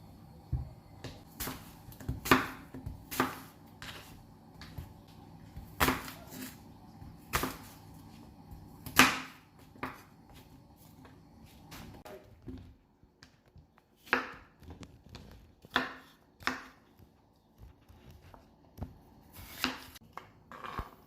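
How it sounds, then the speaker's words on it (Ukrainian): A knife chops three medium apples into cubes on a board, sounding as sparse, irregular sharp taps and thuds at close range over a quiet background, with no speech. "Далі нам потрібно взяти три середніх яблука і порізати на середні квадратики."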